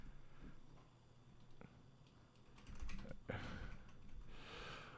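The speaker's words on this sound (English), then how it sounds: "I need a new keyboard. This keyboard is so loud." A noisy computer keyboard is typed on during a live stream. Quiet, irregular clicks and key taps run throughout, with a slightly busier burst near the middle and no speech.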